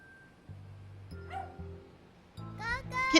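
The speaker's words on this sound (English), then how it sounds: "The kitten hears Gogo's bark in the distance and runs away." A dog yips and barks in short, rising bursts over a steady musical backdrop, sounding fairly distant at first.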